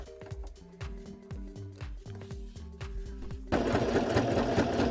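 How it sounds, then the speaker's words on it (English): A sewing machine stitches a loop into the corner of a piece of fabric in short rhythmic bursts, with brief pauses between runs, then a steadier, louder run of stitching near the end; close and clear, with no talking. "I sew a loop in this corner. This is how I fix it."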